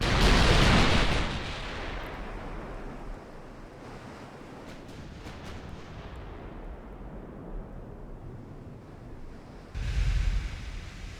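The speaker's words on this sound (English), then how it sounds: "Any big hits from those broadside salvos?" Warship broadside salvos in the naval combat game Ultimate Admiral Dreadnoughts: a heavy booming blast up front, then a long rumbling wash like sea and wind with faint distant thuds, and another loud burst near the end.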